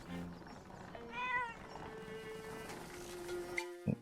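A cat meows in the Zelda: Echoes of Wisdom video game, a rising, harmonic mewl near the middle followed by softer tonal game sounds and a brief click near the end, with no talking over it.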